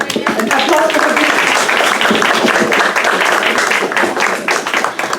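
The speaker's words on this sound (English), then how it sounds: "An applause for her." An audience at a student-led pesticide reform town hall at a high school applauds and claps steadily for the organizer, a dense, loud, sustained burst of many hands.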